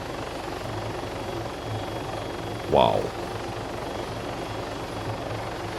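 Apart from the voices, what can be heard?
helicopters flying in the video game ArmA 3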